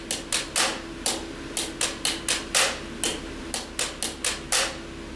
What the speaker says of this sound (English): first I want you to play the ghost note after the downbeat,